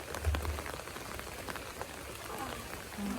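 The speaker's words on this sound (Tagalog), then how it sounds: "kasi umuulan ngayon at 2 araw pa lang umulan dito" Rain falling steadily on surfaces around a house, a dense even patter of drops with occasional louder splashes, close and continuous throughout, with no one talking.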